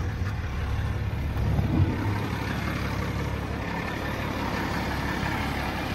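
A Unimog 416 truck crawls slowly in crawler gear during off-roading over obstacles, its engine a steady low drone with a brief swell near the two-second mark, no talk.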